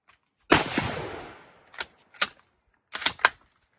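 A rifle from the era of the 1898–1902 Spanish-American and Philippine-American Wars fires one sharp shot with a decaying echo, followed by several crisp metallic clacks as the action is cycled.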